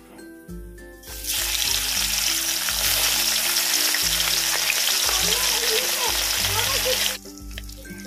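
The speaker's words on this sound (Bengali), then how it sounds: "তেলটা গরম হয়ে গেছে, আমি ট্যাংরা মাছগুলো ভেজে নেব।" Small tangra fish sizzle in hot mustard oil in a heated kadai: a loud, dense, steady frying hiss that bursts in after a quiet second and cuts off near the end, over faint background music.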